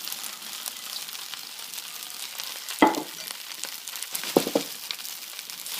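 Beef chow fun with bean sprouts and green onions is stir-fried in a wok, a steady hiss of sizzling broken by two sharp scraping clanks of the spatula.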